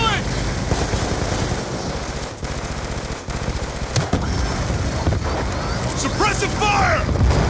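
Machine guns rattle nonstop in Call of Duty Black Ops 2, loud rapid automatic bursts layered with other gunfire and booms throughout, while soldiers shout over the shooting.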